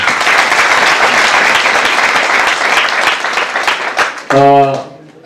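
A church congregation claps loudly for newlyweds at a civil and religious wedding ceremony, a dense, sustained round of applause that fades, followed by a brief tonal sound at the end.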